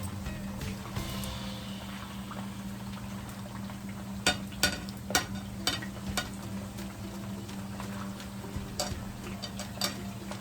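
A quiet, steady sizzle of yam slices frying in oil, with a few sharp clicks and taps from utensils near the middle.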